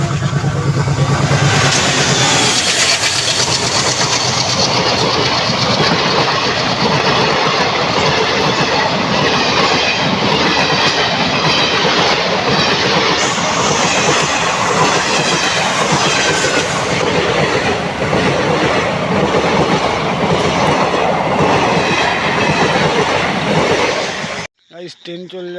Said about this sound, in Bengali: আর আমরা এখন ট্রেনের জন্য এতক্ষণ অপেক্ষা করছিলাম, আর ট্রেন এখন চলে এলো